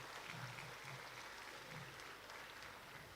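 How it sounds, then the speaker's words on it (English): Audience applause at a graduation ceremony, a steady, continuous wash of clapping from a crowd, distant and faint throughout. "Round of applause, please."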